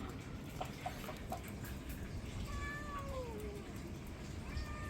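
A cat gives a few short, quiet meows with gliding pitch against a faint, noisy indoor background; no talking is heard.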